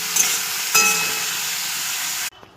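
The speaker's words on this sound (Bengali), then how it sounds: "তেল গরম হয়ে গেছে, দিয়ে দিচ্ছি উচ্ছে ভাজা, উচ্ছে আলু পাতাটা দিয়ে দিচ্ছি" Bitter gourd and potato frying in hot oil with turmeric and salt, a loud, close, steady sizzle with a couple of sharp bursts as pieces hit the pan, then the sizzle suddenly drops off.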